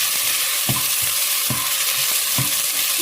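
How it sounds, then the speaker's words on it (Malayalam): Crushed garlic and onion sautéing in a pan for rasam, a steady loud sizzle with regular stirring scrapes roughly every second and no talking. "ഈ വെളുത്തുള്ളിയും അതുപോലെ ഉള്ളി ഒരു ഗോൾഡൻ ബ്രൗൺ ആയി കളറാവണ വരെ വഴറ്റുന്നു."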